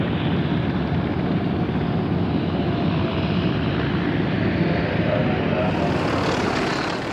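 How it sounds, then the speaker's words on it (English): A Consolidated PBY Catalina leading big World War II warbirds out onto the tarmac at an airshow, a continuous loud broadband propeller-engine drone held steady and close without a break, no talking. "the consolidated PBY Catalina leads the big warbirds out onto the tarmac"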